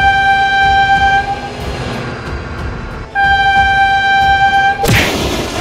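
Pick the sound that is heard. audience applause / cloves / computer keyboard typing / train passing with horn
train passing with horn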